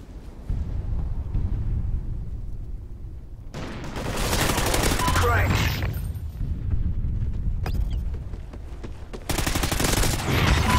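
Rapid shotgun and automatic gunfire in a Call of Duty: Ghosts Cranked multiplayer match, loud bursts of blasts in clusters with brief lulls between them, no talk over it.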